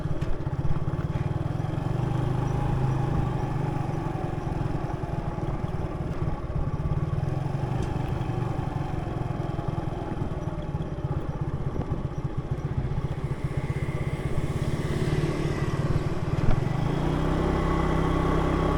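A motorcycle rides along roads on Cat Ba island near Hanoi, Vietnam, its engine holding a steady, close drone throughout with a faint rattle.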